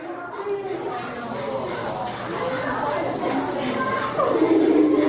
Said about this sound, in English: The conehead katydid